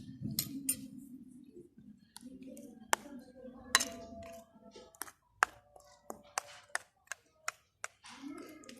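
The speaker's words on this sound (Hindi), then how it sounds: "अभी इसमें से थोड़ी सी लेके ये दही में मिक्स कर देंगे।" A spoon clinks against a bowl while mixing vegetables into yogurt, with scattered taps that settle into a steady run of sharp clinks near the end. Soft talk is heard early on.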